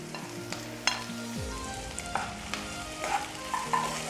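Chopped green chillies and ginger-garlic paste sizzle in a hot pan while being stirred, a steady close frying hiss broken by scattered scraping clicks of the spoon, with no talking.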